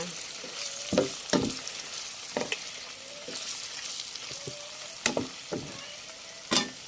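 Marinated pork strips deep fry in hot oil with chilli and garlic, a dense steady crackle broken by sharp pops and bursts of spatter every second or so, close and moderately loud with no voices.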